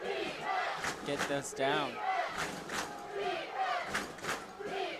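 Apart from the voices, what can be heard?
East Noble football crowd cheering wildly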